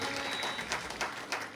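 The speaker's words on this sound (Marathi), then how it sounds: "एकदा टाळ्या वाजवा बरं सर्वांसाठी" An audience at the tenth day of a Shrimad Devi Bhagavat Katha, a devotional discourse with singers and musicians, gives a steady wash of clapping, with a few louder bursts rising through the dense patter.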